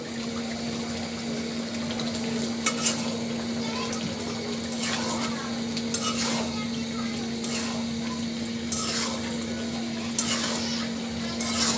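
Chicken curry gravy sprinkled with cumin powder bubbles in a pan with a steady soft simmer and occasional light stirring clinks, over a constant low hum.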